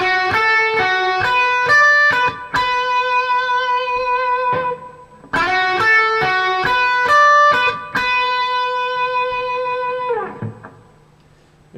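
Overdriven electric guitar plays a blues rock lick in B in steady time, a run of quick picked notes ending on a sustained ringing note, heard twice in a row with no backing.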